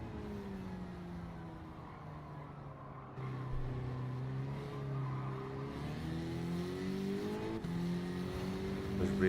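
In the Gran Turismo 7 racing game, a car engine drones and revs with rising, shifting pitch while the rear tyres spin and squeal, steady and moderately loud with no talk.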